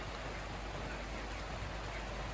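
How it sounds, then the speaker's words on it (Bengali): Steady rain falls outdoors, a continuous even hiss of drops on surfaces, loud and close with no breaks and no voices. "আর বৃষ্টি পড়ছে বাইরে,"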